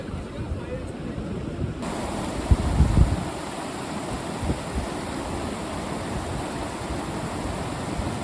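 Stream water rushes past a riverside camp near Turtuk, a steady broadband wash with a faint wind buffet and a brief muffled thump partway through.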